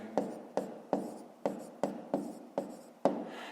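Chalk or marker taps and scratches across a board as math is written, about eight short sharp strokes in a steady rhythm, quiet and close.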